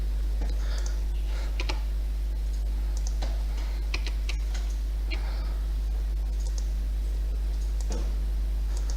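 Mouse clicks on a computer during a software demo of a case-management system, several sharp short clicks scattered through a steady background hum, with faint talk at moments.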